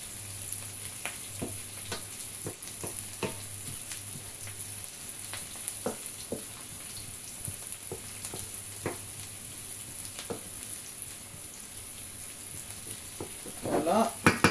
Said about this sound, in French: Faut prendre le temps de faire dorer l'huile. Enfin, de faire bien dorer l'oignon dans l'huile.